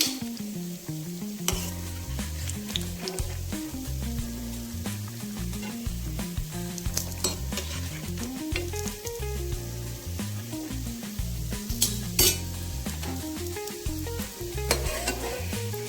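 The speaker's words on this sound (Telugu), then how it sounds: "అలా మీడియం ఫ్లేమ్లోనే చక్కగా ఎర్రగా నిదానంగా వేగాలి." Ingredients for coconut biscuits sizzle in a pan on a medium flame, a dense, even crackle with repeated stirring and occasional scrapes, heard up close without talk.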